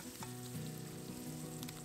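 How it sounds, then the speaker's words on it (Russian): Chopped onion, cut into large pieces, sizzles and fries in vegetable oil in a pan, a steady close crackle with faint stirring and no talk. "На растительном масле обжариваю лук."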